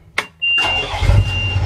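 A small fishing boat's engine starts up close by, a short click and cranking burst followed by a steady running rumble with a thin whine above it.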